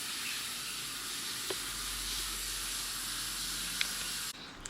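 Ribs sizzle under an oven broiler set on high, giving a steady, even hiss with a couple of faint clicks. The sound cuts off abruptly near the end.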